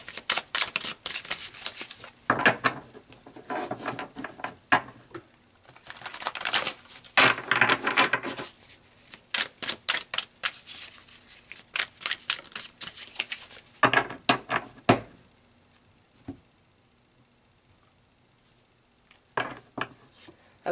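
Tarot cards being shuffled and pulled, close-up bursts of rapid papery riffling and flicking with short pauses, and a quieter stretch toward the end.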